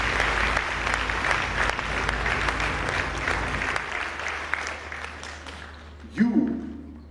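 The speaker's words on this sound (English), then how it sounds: "Please give them a big round of applause." Applause from a conference audience for First Ladies at a We Are Equal campaign event, sustained and loud for several seconds, then thinning out before a voice begins speaking near the end.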